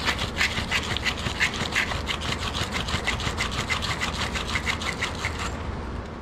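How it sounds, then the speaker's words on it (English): Sandpaper rubs back and forth over copper pipe connections on a ductless mini split heat pump, giving a steady, close, rhythmic rasping with many quick strokes that fades slightly at the end; no talking. "I'm gonna sand down these connections,"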